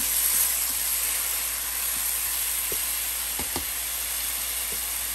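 Ground masala paste fries in oil, a steady hiss with a few faint taps and scrapes of stirring.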